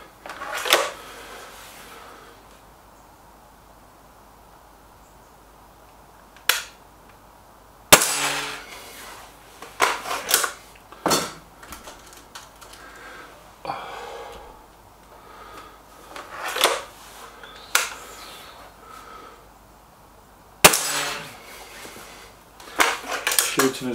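Sharp, suppressed air rifle shots at a league match, an SMK XS36 against a Stoeger RX20, several separate cracks spread out with handling clatter between them and voices talking.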